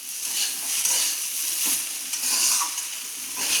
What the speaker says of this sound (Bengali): 3-4 মিনিট চাউমিনটাকে সুন্দর করে নেড়ে নিতে হবে